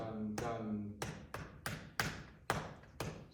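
Body percussion taps out a syncopated Latin plena rhythm as a series of sharp, close slaps and thumps at uneven intervals. A short hum of voice comes before the first tap.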